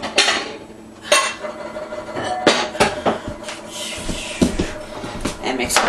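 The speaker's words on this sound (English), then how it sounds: "and mix barley in." Barley is mixed into a salmon cake mixture in a kitchen bowl, heard as irregular close knocks, scrapes and clinks of a utensil against the bowl, with a person talking at times over them.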